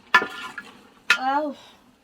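Pork fry curry is stirred in a pot over a wood fire, with two short scraping metal-on-pot strokes, each followed by a brief clatter, close and moderately loud, with no talk.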